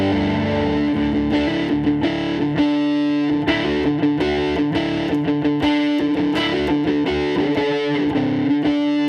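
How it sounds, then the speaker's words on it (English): An electric guitar played through the Nashville OD overdrive of a Fender Tone Master amp, set in front of its Super Reverb model, rings out in a sustained, driven melodic passage with steady picked notes and no talking. "That overdrive on the Fender Tone Master is called Nashville OD"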